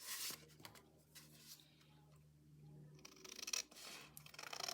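Scissors cutting out an index card close by, a series of soft snips and paper rustles, quiet overall and growing busier and slightly louder toward the end.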